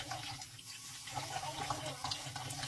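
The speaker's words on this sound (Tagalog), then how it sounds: "Tubigan mo mga bigas para sa pantay." Water is poured from a tap onto rice in a pot, washing the grains before cooking; a steady, close splashing and trickling runs throughout with no talk.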